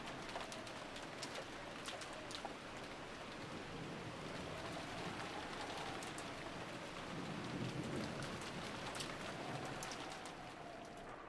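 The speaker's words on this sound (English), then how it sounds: "disappeared beneath the sound of the rain" Steady rain pours on a stormy night in the video game Umineko, a dense continuous hiss with low rumbles of thunder rolling underneath and faint bird calls, all at a soft, distant level.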